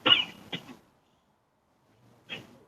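Two sharp coughs in quick succession, close by, then a pause and a third, softer cough.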